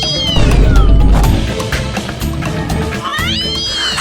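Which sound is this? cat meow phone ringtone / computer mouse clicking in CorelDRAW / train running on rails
cat meow phone ringtone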